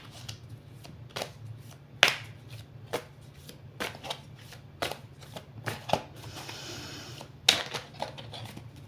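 Oracle cards are shuffled by hand in quick, crisp bursts of riffling and slapping, close and distinct against a quiet background, with sharp individual snaps between the bursts.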